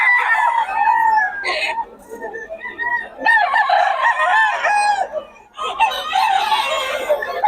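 A white claret stag rooster crows repeatedly, close and loud, in several drawn-out calls mixed with clucking, while someone talks faintly in the background.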